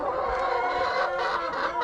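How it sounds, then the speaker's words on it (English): A rooster clucks steadily nearby, with dense, busy calls running without pause over a quiet outdoor background and no talking. "Where is Mr. Rooster?"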